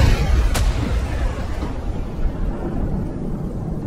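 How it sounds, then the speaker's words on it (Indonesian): A sharp blast cracks out early as an apartment room explodes, followed by a heavy rumbling boom that rolls on and slowly fades, loud and close. "ledakan yang begitu dahsyat dari kamar Hang Sa-min terjadi juga"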